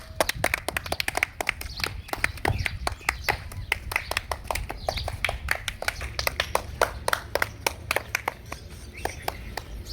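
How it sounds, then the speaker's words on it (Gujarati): A group of people clap their hands in a rapid, uneven flurry of sharp claps to start a Holi colour challenge game, close and continuous, with voices talking underneath. "જો ગેમ સ્ટાર્ટ. તાળી પાડો."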